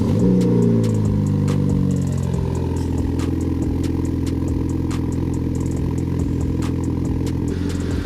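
An 8th-generation Honda Civic coupe engine cold-starts with a brief crank and catch, then settles into a steady, loud idle with a low continuous drone and faint clatter, no talking.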